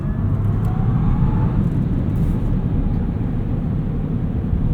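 A 2024 Tesla Cybertruck accelerating, heard from inside as a loud, steady low rumble of road and tyre noise that holds constant for the whole stretch with no voices.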